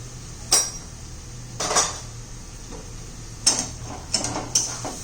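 A spatula stirs potatoes and capsicum cooking with onion-garlic masala, garam masala, red chilli powder and turmeric in a pan, giving about six scattered metallic scrapes and clinks over a low steady hum.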